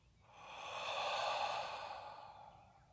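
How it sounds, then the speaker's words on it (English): A slow, audible exhale during breathwork practice, a soft airy breath swelling over about a second and fading away, close and quiet with no talking. "Breathe out."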